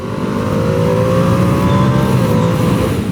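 A 2025 Ducati Panigale V2S sports motorcycle engine pulling hard under acceleration, a loud, continuous rising drone with a steady climbing pitch and wind rush, heard close and without talking.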